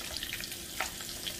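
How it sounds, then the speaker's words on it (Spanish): Garlic and sliced onion fry in a pan with a steady soft sizzle, small crackles and a brief stirring scrape, close and fairly quiet. "Una vez que ya está un poquito frito el ajo, vamos a poner la cebolla en rodajas."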